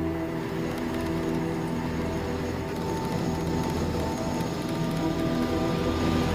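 Steady, loud rumble and droning vibration inside the cockpit of an Airbus A380 approaching Mach 0.89 during a flutter test, a continuous low shudder with tonal hum and no voices.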